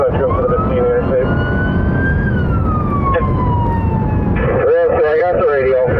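A police car siren wails during a high-speed pursuit on Interstate 15, a loud rising and falling tone over heavy road and engine rumble, switching to a rapid yelp pattern near the end.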